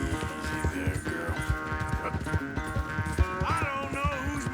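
Horse hooves clip-clop in a rapid galloping rhythm in Red Dead Redemption 2, steady and close over a busy music bed, with a brief snort or whinny partway through.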